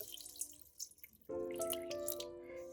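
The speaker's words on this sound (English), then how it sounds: "I'm going to add in some lukewarm water" Lukewarm water pours from a tap into a bigger mixing bowl holding dry yeast and two tablespoons of honey. A steady, close stream runs alone, following a few soft drips.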